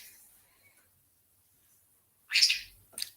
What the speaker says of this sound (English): If you guys can hear my bird